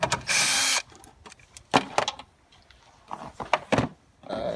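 Ratchet wrench loosening the two 10 mm bolts holding a 2006 Buick LaCrosse headlight, heard as a loud burst of ratcheting followed by several short, sharp clicks and clacks close by, with no talking.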